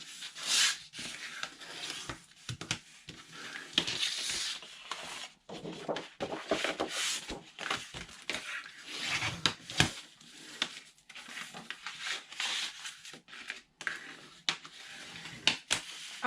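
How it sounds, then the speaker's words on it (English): Scored paper for craft packaging is folded and burnished by hand, with close, quiet rubbing strokes and soft creasing swipes that come in irregular bursts, separated by brief pauses. "And now we are going to fold and burnish"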